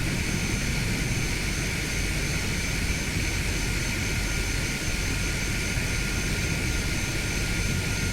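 A Cessna 208B Caravan turboprop roars steadily through its takeoff in Microsoft Flight Simulator 2020, a loud, constant engine and propeller drone with a high turbine whine on top, with no voices.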